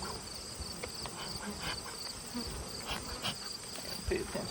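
Honeybees buzz in and around an open hive during treatment, a dense, continuous drone with individual bees zipping close by, faint and steady throughout.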